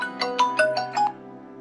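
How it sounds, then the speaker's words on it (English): An incoming-call ringtone on a Xiaomi Mi 11 plays a short run of bright melodic tones, about five notes in a quick rhythm, then fades into silence. "So somebody's calling on Link's phone"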